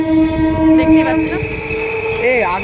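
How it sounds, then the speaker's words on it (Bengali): A train rolls through Shyamnagar station, its steady rumble and long horn-like tones holding across the moment, with people talking close by over the noise. "এখন ট্রেন যাচ্ছে"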